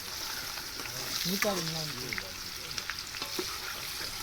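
Spices crackle and sizzle loudly in hot oil with a constant bright hiss while tempering for a honeycomb curry cooked outdoors at a farm, as a voice speaks briefly in the middle.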